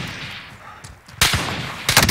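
Gunfire in a Call of Duty Modern Warfare battle royale match: loud, close cracking shots after a quieter stretch, with a second burst near the end.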